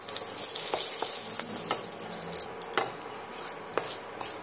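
Potatoes and chopped bay leaves fry in hot oil while cooking dhokar dalna, a steady close sizzle with a few sharp clicks and scrapes from stirring scattered through it.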